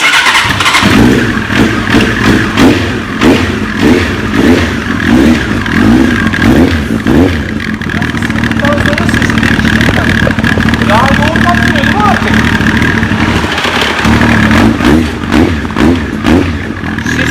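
A Honda CBR900RR sport motorcycle engine starts and idles loudly and close by, its revs rising and falling, while people talk over it.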